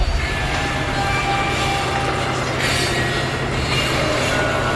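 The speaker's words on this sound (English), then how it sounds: "Don't catch that train, Phelps." A train rumbles past in the video game L.A. Noire, a dense, continuous rolling roar with faint squealing wheel tones and no voices over it.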